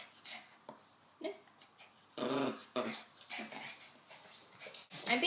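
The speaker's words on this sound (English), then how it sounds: "I'm being attacked by dogs and I gotta film properly!" Dogs growl, whimper and huff at close range in short irregular bursts of varying loudness, with a person briefly speaking amid the noise.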